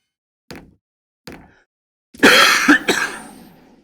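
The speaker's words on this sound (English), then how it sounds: "Sorry for the cough there, guys." A man coughs during a strategy game session: two short, faint throat clicks, then a loud burst of close, harsh coughs that tails off.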